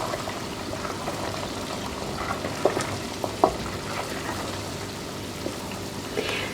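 Butter simmering in a pot while being stirred to make homemade ghee gives a steady, soft bubbling crackle, broken by a few brief spoon clinks and scrapes.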